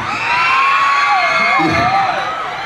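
A crowd screams and cheers loudly, a dense continuous roar of high-pitched shrieks and whoops with little let-up.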